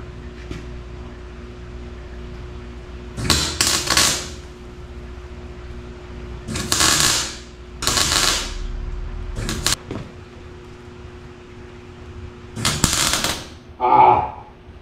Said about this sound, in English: All welded up and done.